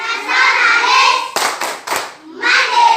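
Indonesian schoolchildren performing the rhythmic PPK clap chant, sung group voices interrupted midway by a short cluster of brisk hand claps, close and loud.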